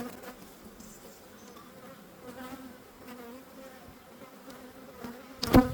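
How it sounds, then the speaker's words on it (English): Honey bees buzz steadily around an open hive during a mid-spring inspection, a soft, continuous drone that grows slightly busier, ending with a brief louder rustle close by. "I hear them a little bit noisier than normal"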